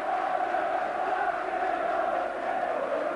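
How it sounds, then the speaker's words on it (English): A football crowd at a 1990–91 Liverpool versus Manchester United league match gives a round of sporting applause, heard as a steady, dense wash of clapping and murmur that holds at even loudness throughout, with no voice standing out. "There's a little bit of sporting applause there"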